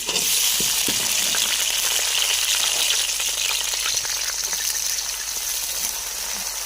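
Onions frying in ghee for aloo matar pulao produce a loud, even sizzle with soft popping and crackles throughout, steady and close, easing slightly toward the end.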